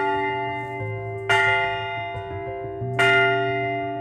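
A historic church bell cast by the same foundry as the Liberty Bell rings twice, each loud metallic strike followed by a long, humming, slowly fading resonance, with no voices.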